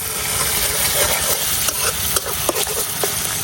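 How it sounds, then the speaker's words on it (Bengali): Dried fish stir-fried in a pan with onion and garlic, a continuous loud sizzle broken by scraping stirring strokes and small crackles, close up with no talking. "যার কারণে আমি শুটকি দিয়ে আগে একটু কষাই নিতেছি।"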